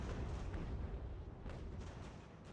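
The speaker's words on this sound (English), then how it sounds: "And the cannons are firing at me." Cannon fire in the battle game Ultimate General: American Revolution, a dense low rumble of booms with a few sharper bursts near 1.5 and 2 seconds, loud and continuous with no speech.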